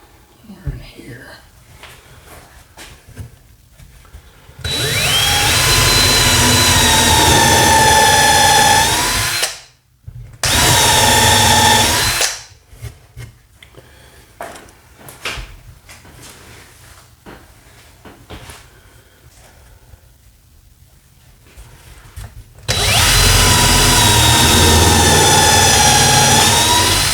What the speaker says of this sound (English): so now we're gonna pre-drill our holes